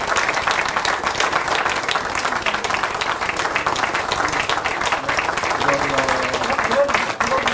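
Loud, sustained applause from a large audience at a South Korean political party gathering electing its floor leader, dense clapping filling the whole stretch with crowd murmur underneath.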